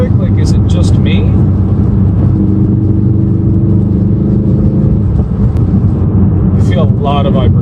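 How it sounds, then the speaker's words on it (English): Cabin road noise in an RS car cruising at 70, a loud continuous low rumble and whir of tires and engine, with someone talking over it. "Now I'm doing 70 and the car pretty much feels fine."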